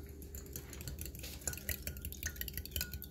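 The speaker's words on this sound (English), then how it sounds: "Now JJ's gonna scramble those up." Eggs and milk whisked together in a bowl for scrambling into an omelette, giving a quiet, quick, steady run of soft clinks and scrapes with no talking.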